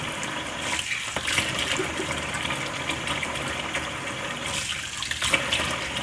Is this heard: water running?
yes